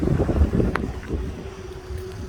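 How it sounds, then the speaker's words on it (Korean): Cool autumn wind gusting outdoors at a rural farm plot, a steady low rumble of air buffeting the microphone with a faint tone and a brief higher whoosh, no talking. "가을 바람이 너무 시원하네요"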